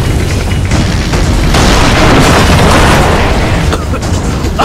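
A building collapses with an explosion in the video game Far Cry 3 during a prison break, heard as a loud, sustained booming roar of blast and falling debris with crackling bursts, close and overwhelming throughout.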